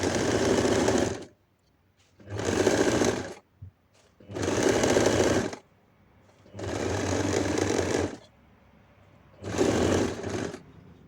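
A sewing machine stitches satin fabric, lining and net together in four or five loud, steady bursts of running stitches with short pauses between, close up.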